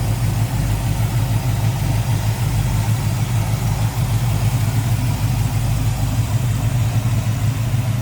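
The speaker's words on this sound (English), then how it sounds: "Alright, there's the engine bay, you're going to see it, hear it run." A 1969 Pontiac Firebird convertible's 350 V8 with Edelbrock intake and HEI ignition idles close by, a loud, steady, even low rumble that holds unchanged for the whole stretch with no talking.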